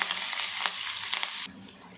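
Fennel, mustard seeds, onion and curry leaves fry in hot oil, giving a close, loud crackling sizzle with sharp spitting bursts that drops suddenly to a softer, steadier frying sound.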